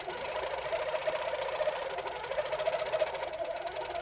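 A sewing machine stitches steadily around a circle quilting ruler, a fast, even mechanical whir with a rapid needle rhythm, close but fairly quiet and running continuously without talk.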